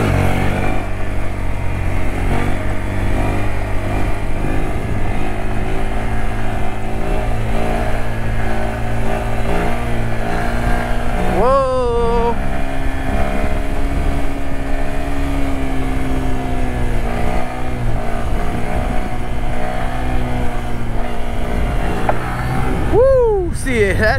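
A 2022 Honda Grom motorcycle pulls a wheelie, its small engine droning loud and steady throughout, with sharp revving sweeps near the middle and again at the end as the front comes down.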